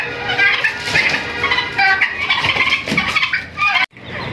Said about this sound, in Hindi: ये देखें, ये हमारी सिल्वर मुर्गियाँ।